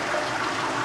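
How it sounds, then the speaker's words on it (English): Water rushing in a bathroom as a toilet flushes, a steady, close, hissing wash of sound with no pauses. "It's only water."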